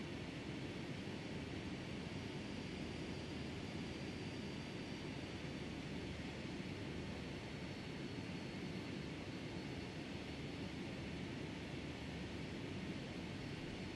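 Steady, loud broadband roar of Boeing 757 jet engines during a takeoff run in the FSX flight simulator, a continuous engine drone with no speech over it.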